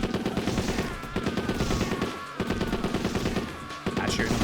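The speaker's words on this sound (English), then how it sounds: "I need a free hand to use Gatling gun" A Gatling gun fires in a Yakuza video game, a dense continuous rattle of rapid shots with pulsing bursts, heard together with game sounds and faint talk.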